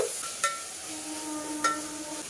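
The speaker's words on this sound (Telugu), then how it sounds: "మసాలా కాసేపు ఫ్రై చేద్దాము" Village-style chicken curry masala frying in a pan gives a steady, soft sizzle with a couple of brief clinks from stirring, alongside faint tonal background music.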